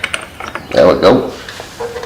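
A ratchet wrench works loose a nut on a 1989 Suzuki RMX 250 vintage dirt bike, a short burst of close metallic clicking and clunking, faint noise before and after.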